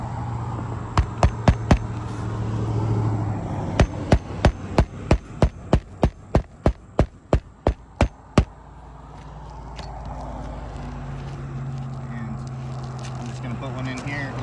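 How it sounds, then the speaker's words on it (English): Hammer driving nails into a repair, about twenty sharp, evenly spaced strikes in a steady rhythm, close and loud, followed by quieter handling noise. "See, I can't get the hammer that way."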